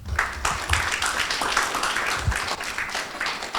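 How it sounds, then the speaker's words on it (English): Audience applause for a guest at a talk-show conversation, a steady wash of many hands clapping for a few seconds at moderate loudness. "Please, a round of applause."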